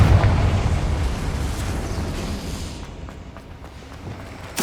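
A Confringo blasting spell explodes in Hogwarts Legacy with a loud, deep boom that rumbles and fades over a few seconds, followed by a sharp burst at the end.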